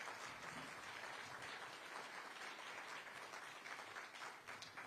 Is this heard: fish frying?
no